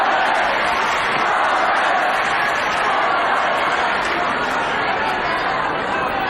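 Spectators at the Rome tennis final between Federer and Nadal cheer for Federer, a dense, steady roar of crowd noise and chatter filling the arena without pause.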